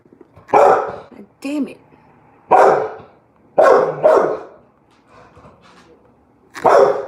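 A pet dog named Dylan barks indoors in several sharp, loud bursts with short gaps between them, while a person speaks briefly in between.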